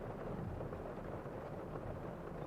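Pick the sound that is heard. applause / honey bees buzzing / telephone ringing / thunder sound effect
thunder sound effect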